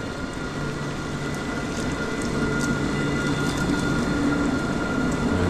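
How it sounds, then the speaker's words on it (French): A tram passes along a city street during a pre-dawn thunderstorm in Sidi Bel Abbès, a steady rumbling roll with a faint tonal hum, heard from nearby over a wash of rain. "Le tram de passage."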